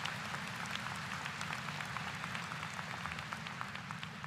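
Faint crowd cheering and applause, a dense, even wash of clapping and voices played back at low level. It holds steady throughout without a clear peak.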